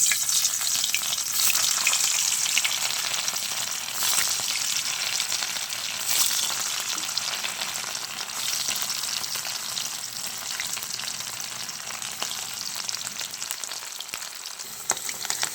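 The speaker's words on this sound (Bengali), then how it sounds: "এবার আমি একে একে পনিরগুলো ছেড়ে দেবো।" Paneer cubes dropped into hot oil and frying, a dense continuous sizzle with crackling spatter and a few louder pops, close up and steady, gradually easing slightly over time without any speech.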